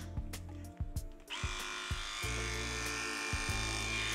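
An electric head shaver set to a 3 mm guard buzzes steadily and close by after a few clicks and handling knocks, its motor hum continuing to the end.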